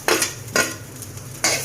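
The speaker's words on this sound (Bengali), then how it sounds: "এখন আমি কালিজিরাটা ভেজে নেব।" Black cumin (kalijira) seeds being lightly fried and stirred in a pan, heard as three distinct scraping strokes of a utensil against the pan with quiet gaps between, close up and with no talking.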